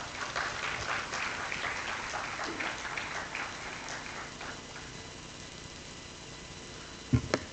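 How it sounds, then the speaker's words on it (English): Applause from an audience at an international expert lecture, a moderate spread-out clapping that gradually thins and fades, ending with a couple of sharp louder knocks near the close. "Give ma'am a very big round of applause."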